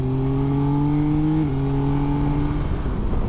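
A Yamaha Tracer 9 GT+ motorcycle accelerates hard to overtake. Its engine tone rises steadily, with a brief dip partway through, loud and close over the rush of wind.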